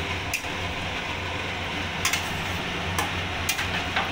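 A spoon stirs food in a pot with a little added water, giving a soft continuous scraping wash and a few sharp ticks of utensil against the rim, steady and close with no talk.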